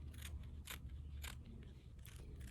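Small embroidery scissors snip through stitching on an embroidery project in a few quick, close, crisp cuts spaced apart, with no talk.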